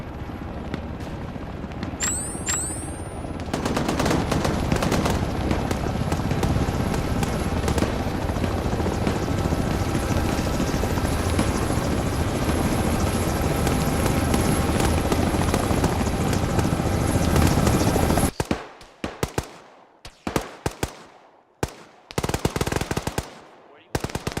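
A video game helicopter roars loudly with rapid rotor thumping for most of the scene, joined by bursts of gunfire, then cuts off into choppy, intermittent sound near the end.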